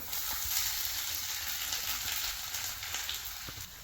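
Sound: mustard seeds, dried chilies and garlic sizzling in oil

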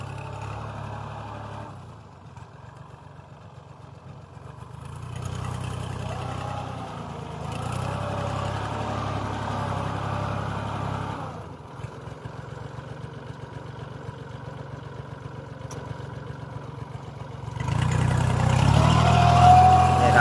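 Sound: tractor engine running while tilling a field

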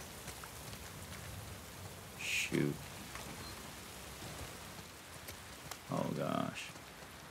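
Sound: rain in The Last of Us Part II video game

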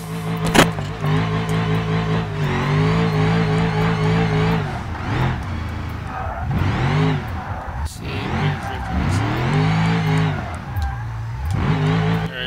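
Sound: car drifting in video game BeamNG.drive

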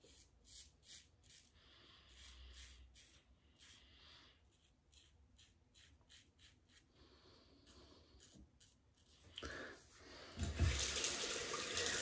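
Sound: rinsing a safety razor under a running tap

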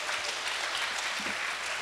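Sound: audience applause after talk

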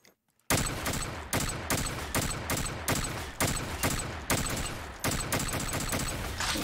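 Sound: gunfire from a headshot gun in a video game

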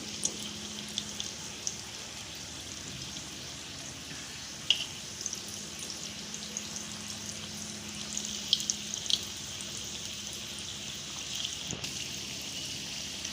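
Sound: khoya balls frying in oil on low flame

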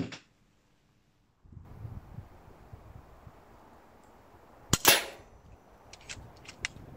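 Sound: FX Crown Compact MkII air rifle shooting

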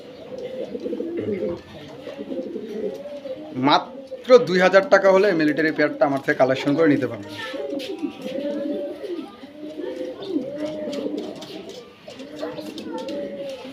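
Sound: pigeons cooing

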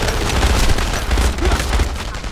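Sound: gunfire in the video game Enemy Front

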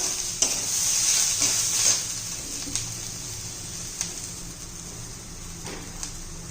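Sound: sautéing garlic and ginger in a pan

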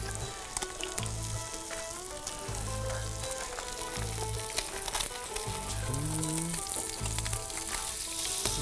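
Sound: sea bass fillets frying skin side down

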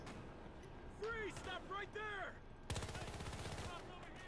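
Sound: gun hip-fired in the video game Battlefield

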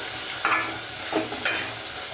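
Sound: tomato pieces cooking in a pan for Telugu curry

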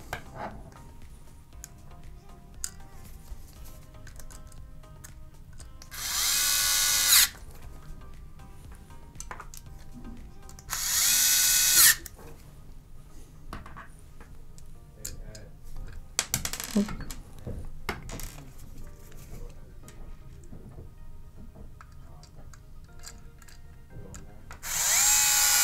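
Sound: screws being driven into Xbox One S hard drive caddy

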